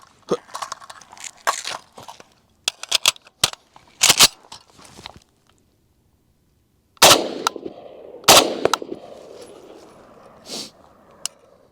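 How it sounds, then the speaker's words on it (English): Sharp metallic clacks and snaps of an FN FNC rifle being reloaded come in quick bursts, magazine and bolt handling close and crisp, with a short silent pause before two louder clanks and a final faint click. "And we're out. Quick reload."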